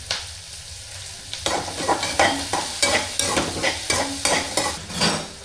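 Chopped onions fry in a pan as a spatula stirs them in repeated scraping strokes over a steady sizzle, close and clear with no talking.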